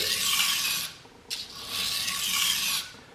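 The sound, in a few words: sharpening a knife on 240 grit sandpaper on a 2x4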